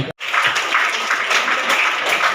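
An audience applauds at a school award ceremony honouring students, a thick, continuous wash of many hands clapping that starts abruptly after a brief gap and stays loud and steady.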